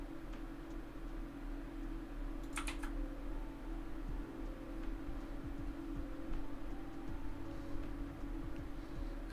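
A computer keyboard clatters in one short burst of keystrokes, then scattered faint taps follow over a constant low electrical hum, close by.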